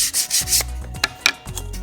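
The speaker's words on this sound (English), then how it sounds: "it's a good idea to sand" Rhythmic hand sanding on wood, repeated rasping strokes back and forth, close and fairly loud, with a few sharper scuffs.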